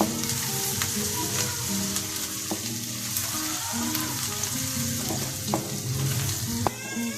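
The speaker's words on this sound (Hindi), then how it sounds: "अब हम इसमें लहसुन अदरक का पेस्ट डाल देते हैं ताकि ये भी अच्छे तरीके से फ्राई हो जाए।" Garlic ginger paste sizzles and fries with onions in a pan, a dense continuous crackle with occasional stirring scrapes and clinks, close and fairly loud, for a mixed vegetable dish.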